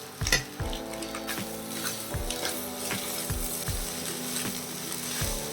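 Cooked rice for restaurant-style egg fried rice is stir-fried in a pan, with a steady sizzle under regular rhythmic scraping and tossing strokes about every half second, close by and without speech.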